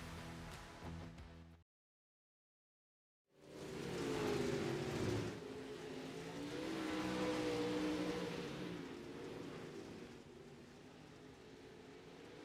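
Dirt-track race cars on the green in heat race number 1 at I-55 Raceway, a loud sustained engine roar that swells and fades as the pack passes, after a brief silent gap at the start.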